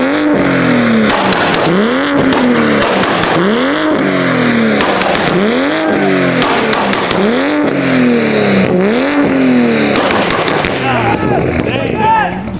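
A Toyota Supra engine revs hard again and again, each loud rising-and-falling rev swelling close by in a steady repeating rhythm. Excited voices shout over it.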